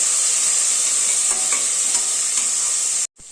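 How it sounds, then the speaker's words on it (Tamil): Chopped bottle gourd and tomato sizzling in a hot pan with a steady hiss, a few soft scraping stirs, then an abrupt cut to near silence at the end. "நான் சுரக்காவை போட்டுக்கிறேன். இப்போ நல்லா வதங்கட்டும்."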